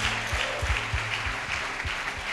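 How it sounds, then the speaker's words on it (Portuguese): A church congregation claps during an evening service, a dense wash of applause with sharp low thumps from nearby hands. "Você pode aplaudir ao Senhor"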